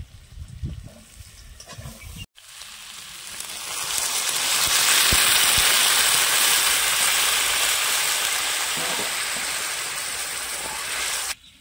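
Water poured into a pan of spiced jackfruit curry sets off a loud, steady sizzling hiss that swells after a brief clatter and holds for several seconds before cutting off.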